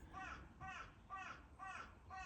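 Crow cawing outdoors, five evenly spaced harsh caws in a steady rhythm, fairly close and clear over quiet background.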